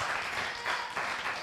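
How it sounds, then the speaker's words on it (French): A short, soft burst of applause for a player in a fighting-game tournament group stage, a smeared wash of clapping at low level, somewhat distant. "un peu d'applaudissements pour Yogo"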